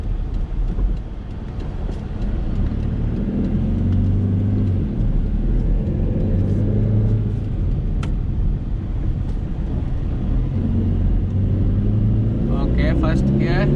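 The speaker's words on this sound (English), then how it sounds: "First gear, full throttle." A 2011 Tata Nano's small engine roars steadily at full throttle in first gear for the whole stretch, a loud, rough drone with constant vibration and some rumble underneath.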